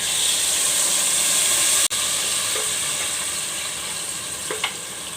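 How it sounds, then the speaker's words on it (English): A blended paste of onion and tomato frying in a pot, giving a loud, continuous hissing sizzle throughout. The hiss cuts out for an instant partway through, and a couple of light utensil taps come near the end. "I will just fry for just few minutes"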